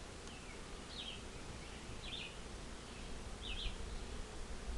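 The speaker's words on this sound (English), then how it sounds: "I hope you didn't squish any bees there." Honey bees at an open beehive make a low, steady hum behind a noisy outdoor background, with a few faint high chirps of a bird.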